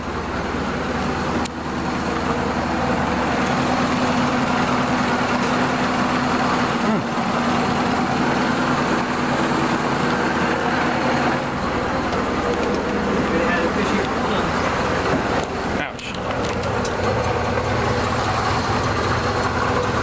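A 1930 Ford Model A pickup engine idles steadily at low throttle, a continuous close rumble throughout, with people talking over it.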